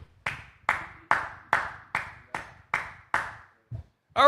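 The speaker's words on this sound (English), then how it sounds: "I'd like to give a round of applause to the man that made that rope" Eight slow, evenly spaced hand claps ring out one at a time in a room, followed by a short pause and a faint knock before a louder sound begins at the very end.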